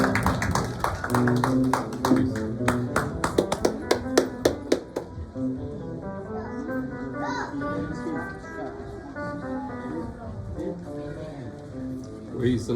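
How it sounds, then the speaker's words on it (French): A church congregation claps in a brisk burst of many hands that fades out after a few seconds, with voices talking and children audible around it. "Bon, regardons, applaudissons."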